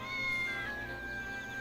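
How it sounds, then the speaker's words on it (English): A cat meows in the Triangle Strategy video game, a short close call that rises and falls with a faint steady tone running beneath it and no talking. "Oh, kitty cat."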